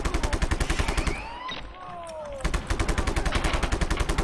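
Rapid bursts of automatic gunfire from a shooter game set in Just Cause 3, loud and rhythmic, pausing briefly mid-clip before the steady fire resumes.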